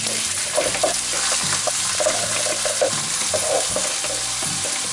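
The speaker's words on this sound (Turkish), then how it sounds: "O yüzden dikkat ediyoruz ve şöyle güzelce kavuruyoruz." Soaked rice and melted onions sauté in a pot with a steady sizzle, while a spoon scrapes and stirs in repeated strokes, close and clear with no talk.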